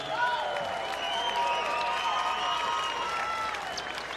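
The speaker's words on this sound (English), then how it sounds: "Ladies and gentlemen, another round of applause for these two warriors." A crowd at a Hawaii MMA event applauds and cheers the two fighters, a steady wash of clapping with whistles and shouts rising over it throughout.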